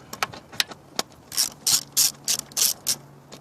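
A ratchet wrench loosens a part during a knock sensor replacement on a 2002-2006 Lexus ES300/ES330 or Toyota Camry, with sharp close clicks at first, then a run of longer, rhythmic ratcheting strokes and no speech.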